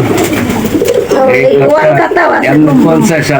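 Pigeons cooing in a household coop with barred windows, soft repeated coos sitting under loud, continuous nearby talk.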